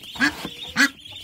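Two loud, close duck quacks from farmyard ducks being fed and watered, each a short nasal call, with a brief softer sound between them.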